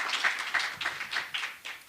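A small seminar audience gives quiet, scattered applause, a soft rhythmic patter of a few hands clapping at a distance, with no talking over it.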